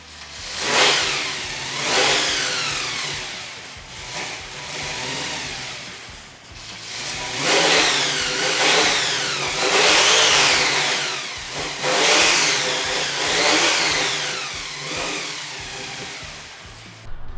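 A car engine fires up and runs after its ignition switch is replaced, revving repeatedly in loud surges that rise and fall over a rough idle, close by in a garage.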